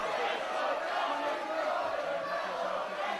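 A packed wrestling crowd roars and cheers during a tag team match, a dense, sustained wall of voices that swells and dips slightly, loud and continuous throughout.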